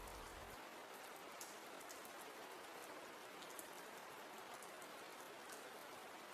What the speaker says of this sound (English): The rain continues, soft, steady, endless, falling, again and again.